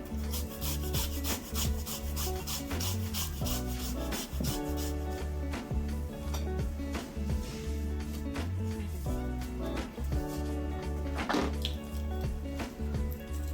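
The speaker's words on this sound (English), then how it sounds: "Grate your ginger." Fresh ginger grated by hand for a Jamaican curry chicken with turmeric, giving a steady rasping scrape under loud, continuous background music.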